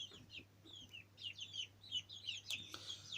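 Young Indian Runner ducklings and chicks in a brooder chirp and peep in a busy overlapping chorus of high, quick calls over a steady low hum, fairly close.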